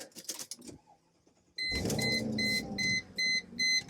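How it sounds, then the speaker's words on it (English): A Mercedes G-Wagon is switched on with a seat unplugged, setting off its warnings: a faint click and hum, then a motor whir and a series of short electronic chimes repeating in quick bursts. "I'm about to trigger a bunch of warnings by turning the car on without the seat plugged in."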